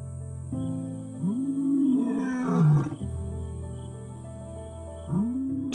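A lion roars in the wild, deep groaning calls rising and falling across the clip, one long bellow building near the middle and another starting near the end, loud and close with no talk.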